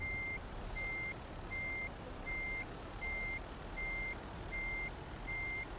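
Steady reversing beeps from a truck backing up in the American Truck Simulator game, eight evenly spaced tones repeating about every three-quarters of a second over a constant low engine rumble, with no talking.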